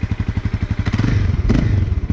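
Honda CBR 300 motorcycle engine idling just after starting, a close, steady low chugging pulse with regular even beats and a slight rise in the middle, no talking.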